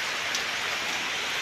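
Steady heavy rain with strong wind from an approaching super typhoon hissing without letup, a dense broadband wash with no breaks and no voices.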